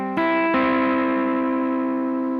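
An electric guitar plays through a pedalboard lo-fi saturation effect with the saturation knob turned all the way up and built-in hiss. One chord is struck, then a second, and it rings out long and thick over a steady hissy bed.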